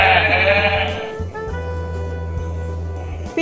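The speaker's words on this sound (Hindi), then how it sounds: "बे से बकरी।" A goat bleats once, loud and close, a wavering cry lasting about a second, then a low steady hum runs underneath for the rest.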